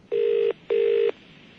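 A telephone ringing tone sounds clearly, two long electronic rings with a short gap between them, loud and close with no talk over it.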